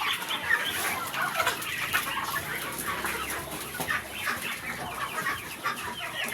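A flock of native hens clucks and chatters continuously, many overlapping bird calls close by in a busy farmyard, fairly quiet overall.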